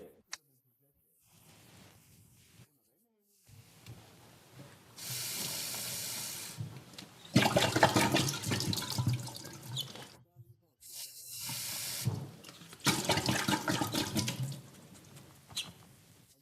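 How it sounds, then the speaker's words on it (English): Water from a tap gushes in two long bursts as a used beer bottle is rinsed out, the flow loud and splashy with quieter handling sounds in between. "you rinse out your bottle. Do it under the tap. Make sure to rinse it thoroughly."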